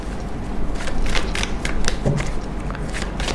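Tarot cards are shuffled by hand for a reading, a close run of soft riffling and flicking bursts over a few seconds with a faint background hum.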